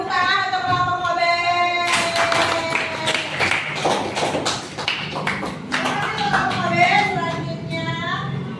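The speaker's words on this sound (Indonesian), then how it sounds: "Tepuk tangan untuk kelompok Mobe." A classroom of students claps for a group that has just presented in an Indonesian university teaching-practice lesson. The clapping is a dense patter of hand claps lasting several seconds, with voices talking before it and again afterward.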